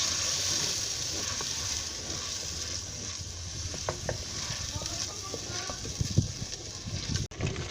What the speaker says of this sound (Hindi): ये 1 पाव प्याज पिसा हुआ, इसको भी आपने फ्राई करना है।